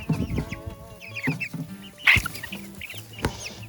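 Brahma chickens and a rooster cluck in a scattered, uneven rhythm close by, with one sharper squawk midway and a few softer clucks trailing after, no voices.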